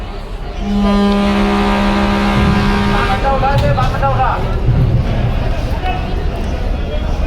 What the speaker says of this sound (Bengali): আজকে এতগুলো লঞ্চের মধ্যে সর্বপ্রথমে ছেড়ে দিল পিরিন চাওলার দশ লঞ্চ